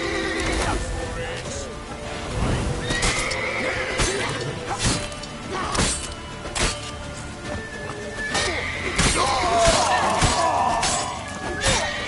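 Horse whinnying amid a chaotic chase in The Witcher 3, with crashes, thuds and shattering impacts over a busy game mix while characters shout nearby.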